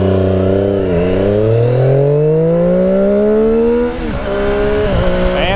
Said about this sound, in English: The exhaust, to me, gives you a, like, I'm not messing around kind of note.